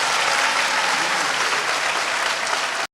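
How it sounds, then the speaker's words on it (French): A crowd applauds newly named presidential election candidates, a loud, dense and unbroken roar of clapping hands that runs evenly for about three seconds and then cuts off abruptly. "Merci de les applaudir."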